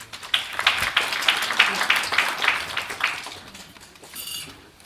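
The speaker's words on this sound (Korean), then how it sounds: "박수 부탁드리겠습니다" Moderate applause greets a company CEO at an IPO investor relations briefing, with a run of clustered claps that thins and fades toward the end while a voice speaks over it.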